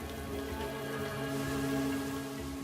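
Steady rain falling in the Al Hajar Mountains of Arabia, a dense continuous patter of drops on hard rocky ground, close and even throughout with no voices.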